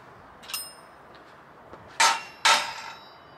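Metal clangs ring out as a hammer strikes parts off a bicycle frame: one lighter hit, then two loud, sharp blows about half a second apart, each leaving a brief ringing tail.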